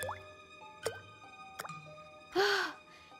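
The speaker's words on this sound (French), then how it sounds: "Oh, ce n'est que le robinet qui fuit, c'est tout." A leaking tap dripping at night in a palace in an animated children's show, a few distinct plops spaced apart, the last one louder and more resonant, heard alone without talk.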